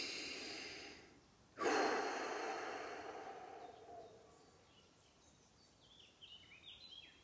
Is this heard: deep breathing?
yes